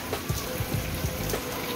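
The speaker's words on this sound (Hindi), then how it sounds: "अब सिर्फ बारिश हो रही है" Rain falls steadily onto surfaces right after a snowfall in Noida, with scattered close drops tapping over a soft, continuous patter. The sound is faint and brief, and no voices are heard.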